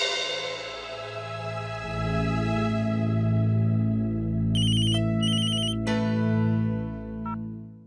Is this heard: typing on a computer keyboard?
no